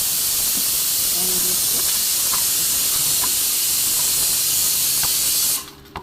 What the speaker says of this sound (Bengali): প্রেশার কুকার সিটি বাজছে